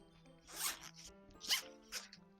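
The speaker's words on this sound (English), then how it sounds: "Got the zipper." A clothing zipper is drawn up in three quick, close strokes, each a crisp rasping zip, quiet but clear over a low background hum.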